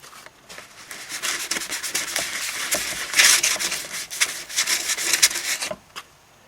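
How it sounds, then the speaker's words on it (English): A hone working inside a length of PVC pipe to make it round, giving a continuous, close, gritty rubbing and rasping with rapid strokes for several seconds before it stops. "trying to use a hone to make something round"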